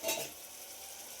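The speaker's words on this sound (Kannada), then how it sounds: "ಮೆಣಸಿನ್ಕಾಯಿ ನೋಡಿ ಸ್ವಲ್ಪ ಎಣ್ಣೆಲೆ ಫ್ರೈ ಆಗಬೇಕು" Green chillies frying in a little oil, a close, steady sizzling hiss that swells briefly at the start and then settles into an even, quieter fry.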